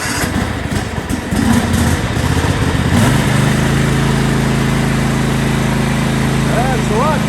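A 2003 White Outdoor LT 1650 42-inch lawn tractor engine runs loudly and close, its pitch shifting and settling into a steady drone as the PTO engages, with brief talk over it.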